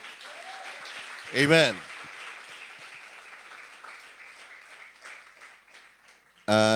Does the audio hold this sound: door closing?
no